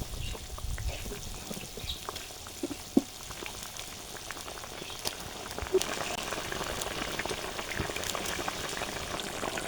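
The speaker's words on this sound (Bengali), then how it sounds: "সব ফুটে উঠেছে, ভেজে রাখা মাছগুলো দিয়ে দেবো।" A pot of fish curry with ash gourd bubbles at a low simmer, giving a soft, steady popping and gurgling with scattered small plops, faint and close.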